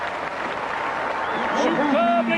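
A stadium crowd at the 1995 Rugby League World Cup match between Fiji and South Africa roars and cheers a try, a loud continuous wash of applause and shouting with a commentator talking over it.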